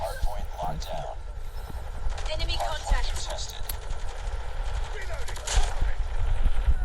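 A favorite gun firing in the Call of Duty Mobile video game, with steady bursts of rapid automatic gunfire mixed with game effects, under continuous talk.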